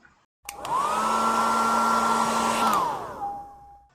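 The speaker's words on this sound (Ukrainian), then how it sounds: "Це фен." A hair dryer switches on with a rising whine, blows steadily for a couple of seconds, then winds down to a lower hum.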